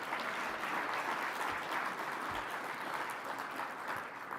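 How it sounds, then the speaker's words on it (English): An audience at a plenary session of a 90th winter meeting gives a round of applause for 2022 Dollar-Wise Innovation Grant winners, a steady, full wash of many hands clapping at an even level throughout. "let's have a round of applause for our 2022 Dollar-Wise Innovation Grant winners"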